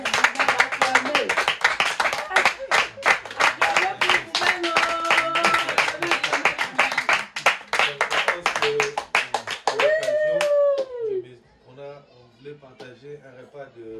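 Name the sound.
audience clapping, applause for the family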